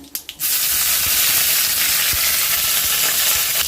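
Loud, steady sizzling and crackling of mustard seeds and urad dal frying in hot ghee, starting after a few brief clicks and continuing unbroken.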